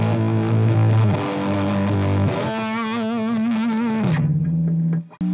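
Electric guitar through a Keeley Fuzz Bender fuzz pedal, heavy doom-style tone: loud sustained distorted chords with a warbling bend midway, then a lower held note before cutting out.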